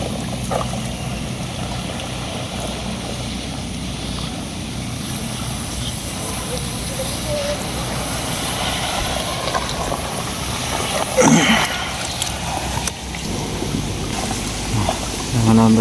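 A boat moving across water on a rainy day, with a steady hiss and wash of water and a faint engine hum throughout, plus a brief knock near the end.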